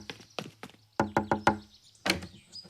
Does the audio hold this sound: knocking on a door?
yes